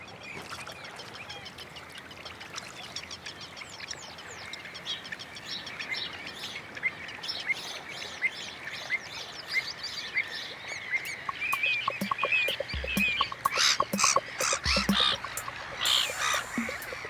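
Black-headed gulls call in a dense, busy chorus of harsh squawks and chirps at a colony, rising in volume and intensity toward the end with sharper close cries.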